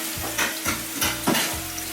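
Macedonian stuffed peppers sizzling and frying in a pan, with soft rhythmic stirring scrapes every half second or so, close and steady, no voices.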